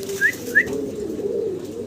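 Homer pigeons at a pigeon farm, two short soft calls over a low steady cooing hum, close and fairly quiet.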